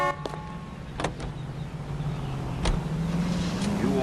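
Car driving in the video game L.A. Noire, with a steady low engine drone building toward the end and a few brief clicks and thumps on top.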